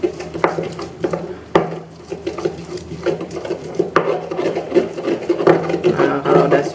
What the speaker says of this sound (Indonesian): Ada 2 siung bawang putih. Kita ulek.